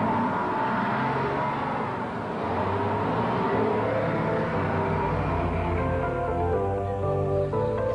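An urban bus drives along a city route, a steady loud engine drone and road rumble from inside the vehicle, with the engine note rising and shifting in the second half.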